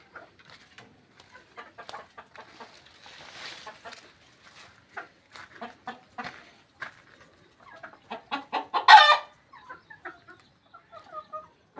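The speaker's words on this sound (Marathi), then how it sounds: "गावठी कोंबड्यासुद्धा पाळलेल्या आहेत" Free-range village chickens cluck in short, scattered bursts nearby, with one louder squawk partway through, over an otherwise quiet background.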